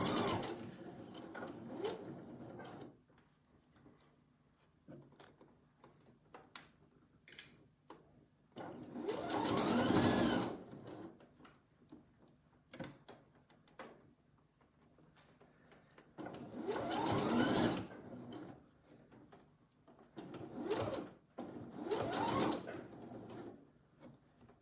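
A sewing machine stitches baby slippers in several separate runs, each a few seconds of whirring mechanical buzz, with quiet handling sounds and pauses between them.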